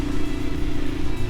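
Adventure motorcycle engine in third gear rolling downhill on a rural mountain road in Patrick County, Virginia: a steady, close, droning hum with a rough low rumble that stays even throughout the brief stretch.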